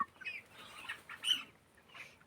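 Chickens cluck softly in a yard, a few short faint calls scattered over a couple of seconds with quiet background.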